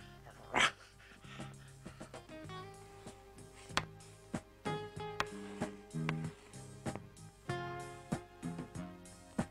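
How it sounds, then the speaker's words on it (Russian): A cartoon dog from a 1982 Soviet animated film barks and yips in short sharp bursts over a tinkling musical score, the calls scattered and fairly quiet. "Значит, это героическая собака."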